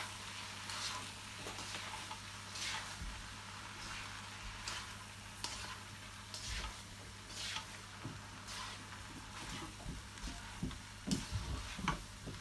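King prawn fried rice is stirred in a hot pan, giving a quiet, steady sizzle with soft, rhythmic scraping taps of the utensil, heard up close.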